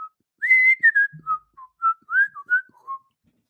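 A person whistles a short, wavering tune of several clear notes with small gaps between them, close and alone with no other sound.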